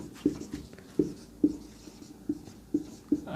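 Chalk or marker tapping and scraping on a classroom board during a Class 10 maths lesson, six short distinct strokes at a steady rhythm, fairly close and moderately loud, with no talking.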